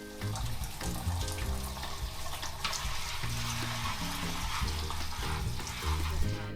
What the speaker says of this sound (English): The potatoes are cooked and she drains and cools them too.